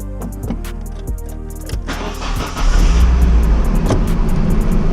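Nissan 240SX S13 pulling off on a test drive: engine idles with light clicks, then revs up around the third second into a louder, steady driving roar close by, no talk.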